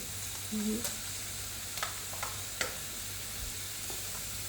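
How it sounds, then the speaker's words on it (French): Lardons sizzle in a pan with garlic and parsley, a steady close frying hiss broken by a few sharp taps and scrapes of a utensil stirring. "On va rajouter aussi quelques lardons."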